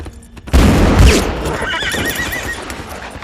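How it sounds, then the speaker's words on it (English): A horse from the Sleepy Hollow film whinnies loudly amid heavy thudding hoofbeats and rushing action noise, the neigh rising sharply before fading into continued pounding motion. "The Hessian horse just keeps running."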